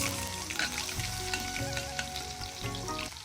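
Mustard seeds, crushed cumin and garlic sizzle in hot oil, a soft, even crackle with scattered tiny pops, faint and continuous behind a low steady tone.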